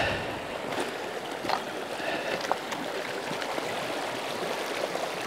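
A river runs over stones with a constant soft rushing and scattered gurgles and splashes, moderately close and with no voices.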